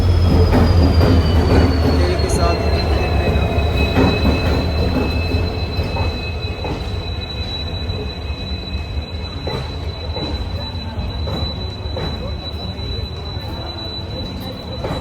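A train rumbles along the rails into platform 5 at Old Delhi railway station, with a long, high wheel squeal sliding in pitch, loud and close, easing slightly as it continues.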